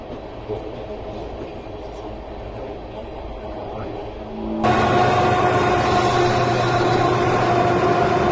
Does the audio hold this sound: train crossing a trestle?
yes